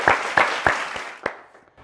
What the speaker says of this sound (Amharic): አጨብጭቡላት ድጋሚ።